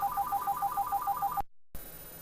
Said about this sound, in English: so before my phone rang